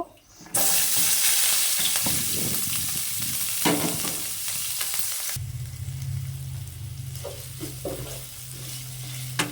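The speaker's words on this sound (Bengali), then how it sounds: "আমি এক এক করে আগে থেকে কেটে রাখা পেঁয়াজ আদা থেতো করে রাখা রসুন আর চিড়ে রাখা কাঁচা লঙ্কাগুলোও দিয়ে দেব" Onion, ginger, garlic and green chilies fry in hot oil for a Bengali mixed vegetable dish. A loud sizzle bursts up as they go in, with stirring scrapes, then settles into a steady fry under a low hum.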